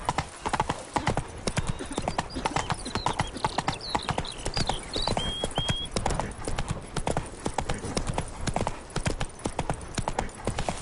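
Roach the horse's hooves clip-clop steadily in The Witcher 3, a brisk continuous trotting rhythm close by, with a faint whinny partway through and light ambient game sound beneath.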